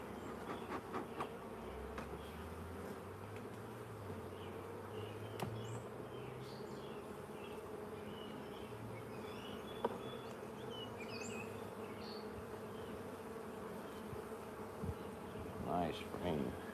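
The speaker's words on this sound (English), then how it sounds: "Oh, jeez, man, they're all over the place." Honey bees swarm and buzz steadily around open nuc hives during a hive inspection, a dense close-up drone lasting throughout with a few faint thumps and little else.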